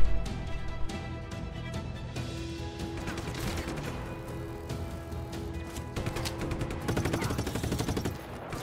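Sustained rapid gunfire from a Just Cause 3 game battle, dense bursts and overlapping shots with crashing impacts running throughout, loud and busy with a slight swell near the end.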